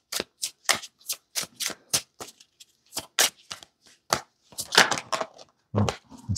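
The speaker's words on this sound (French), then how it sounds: "Et on va tirer deux cartes avec l'oracle des sorcières." Witch oracle cards being shuffled by hand in a run of crisp, rapid riffling bursts, close and fairly loud, with brief pauses between them and no talking.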